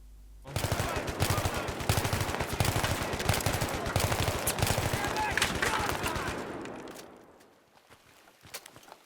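Sustained enemy machine-gun fire suppresses the player in Battlefield 3, dense loud rapid shots for about six seconds before fading to sparse distant pops.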